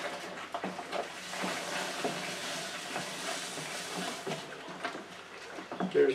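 Corn is stirred into a moonshine mash, giving a steady hissing, sloshing churn with intermittent scrapes and knocks, close and fairly quiet.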